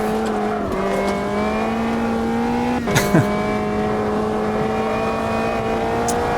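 A rear-wheel-drive Caterham track day car in the Automobilista 2 racing sim drones at steady high revs with a brief gear-change dip and a short clunk midway, the engine note loud and close throughout.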